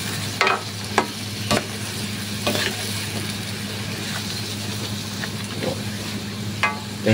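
Adobong pinatuyo stirred in a pan, the spoon scraping in a few sharp clatters over a steady low sizzle of frying, close and alone with no voice.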